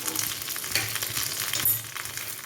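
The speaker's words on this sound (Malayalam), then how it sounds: "ഉള്ളി മൂത്ത് വന്നു ഇനി നമുക്ക് അല്പം കറിവേപ്പിലയും ഒരല്പം തേങ്ങയും ചേർത്ത് കൊടുക്കാം" Browned onion with curry leaves and grated coconut fries in a pan for a vegetable kappa biryani, giving a continuous bright sizzle with a few stirring scrapes, close and steady, no voices.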